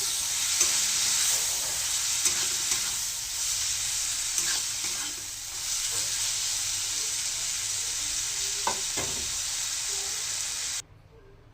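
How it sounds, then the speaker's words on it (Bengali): A little water is added to frying spices with chili powder for a bitter gourd and potato curry, producing a loud, continuous hissing sizzle with a few faint stirring taps before it cuts off abruptly. "অল্প করে জল দিয়ে দিচ্ছি"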